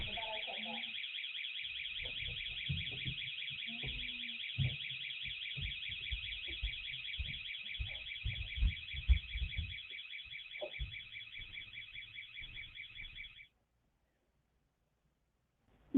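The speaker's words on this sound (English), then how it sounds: "you can hear the door alarm in the background." A door alarm sounds as a continuous high, pulsing electronic beep for about thirteen seconds before cutting off, with thuds and a faint voice underneath.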